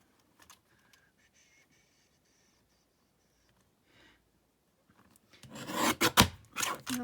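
A paper trimmer slices along the edges of crafting card, giving a close, rasping cut burst in the final seconds after quiet handling and a few faint taps.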